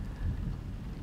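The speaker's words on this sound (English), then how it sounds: "I figured the storm was bad, but I didn't think it'd be that bad" A bad thunderstorm rumbles low and heavy with rain falling steadily, a dense roar that holds for the brief moment.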